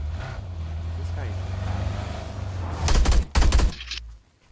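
Gunfire in the battle-royale video game PUBG, with two loud, close bursts of rapid automatic fire near the end over a low engine rumble and game background.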